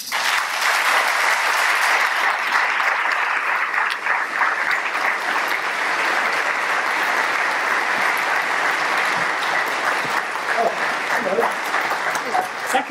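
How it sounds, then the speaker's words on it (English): A large lecture audience breaks into sustained, loud applause after an oration, dense clapping that continues steadily for many seconds. "let's applaud our artists now who are being recognised around the world, long overdue"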